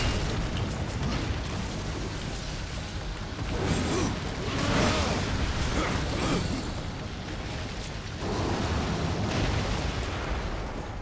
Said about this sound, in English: Now there's bombs down.